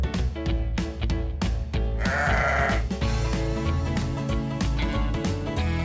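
A sheep bleats over a bouncy children's farm-song backing, its wavering cry rising clearly above the music for about a second mid-way through, with steady rhythmic instrumental beats throughout.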